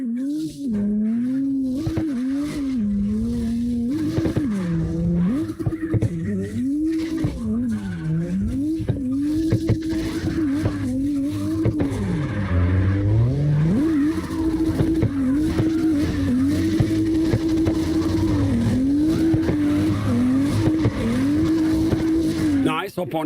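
A BMW drifting in the video game CarX Drift Racing Online gives a continuous revving engine whine that rises and falls with throttle, with tire squeal running throughout and a voice talking over the game sound.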